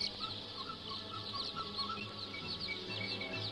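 Many chicks in a large poultry farm hall make a dense, continuous chorus of high peeping and cheeping, steady and fairly loud throughout with no voices over it.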